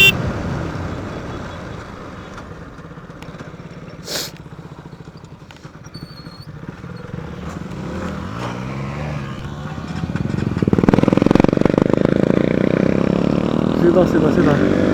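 A motorbike on a ride from Jalgaon to Raver Pal, its engine and road rumble droning steadily up close, swelling noticeably louder toward the end, with voices occasionally talking over it.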